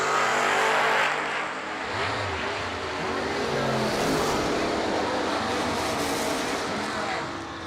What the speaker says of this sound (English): 609 for Morgan Carroll in the Camaro right side.